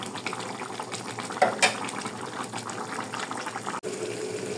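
Duck meat curry simmers in water in a cooking pot, giving a continuous close bubbling and hiss, with a couple of brief clatters partway through.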